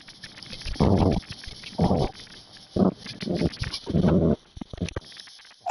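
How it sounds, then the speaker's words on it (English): A pet dog makes a run of short bursts of barking and grumbling noises, close and fairly loud with brief pauses between them and no talk over them. "You hear my dog"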